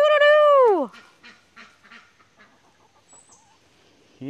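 One loud, drawn-out honking quack up close on a homestead farm, followed by softer scattered quacks and bird calls including a rooster, then another honk at the end.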